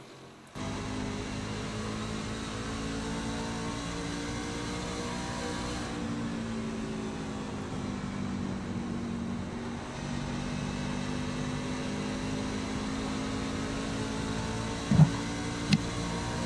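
Truck racing engines in an iRacing series race at Rockingham, a steady sustained motor drone with harmonic whine holding level throughout, one brief sharp click near the end, no talk.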